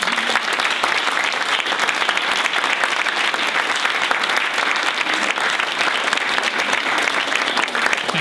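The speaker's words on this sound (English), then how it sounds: "Can we just give our first 4 speakers another round of applause?" Sustained, even audience applause for a panel of speakers at a talk event, many hands clapping densely and loudly close by for several seconds with no speech over it.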